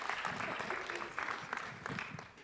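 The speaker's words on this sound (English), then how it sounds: "give Charlie a round of applause" An audience at a schools-ministry training session gives a short round of applause for Charlie, a soft, roomy patter of scattered claps that holds steady and fades slightly.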